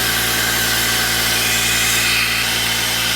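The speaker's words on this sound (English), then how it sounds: "The air compressor is so loud." An air compressor running in a workshop during a car's front coilover build, a loud, close, constant roaring drone that fills the whole stretch without pause or talk.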